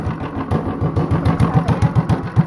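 Honda clone small engine fitted with a 10-pound flywheel and a modified cam, chugging in a steady low rhythmic thump of regular firing pulses, close and fairly loud throughout.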